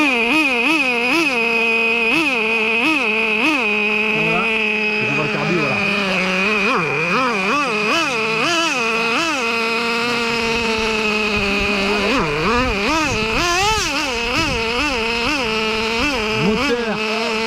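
A small, high-pitched 0.5 cc nitro engine in an XRAY NT18 1/18-scale RC car buzzes loudly and continuously, its pitch swooping up and down as the throttle is blipped.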